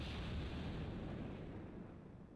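A rocket launcher explosion in Breath of Fire: Dragon Quarter, a quiet, dense rumbling blast that roars steadily and fades slightly over a couple of seconds, with no talk.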